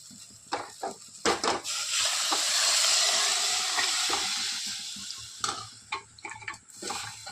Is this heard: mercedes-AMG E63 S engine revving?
no